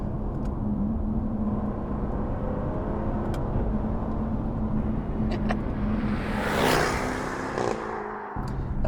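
A Jaguar F-Type R75 sports car engine hums steadily, then surges and rises in a rev toward the end before a quick gear-shift drop, heard from inside at moderate loudness.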